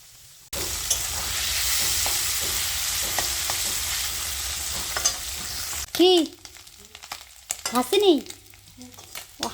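Fish sizzles steadily in a hot kadai for several seconds, then gets stirred with clattering, scraping strokes and a few sharp metallic squeals from the utensil.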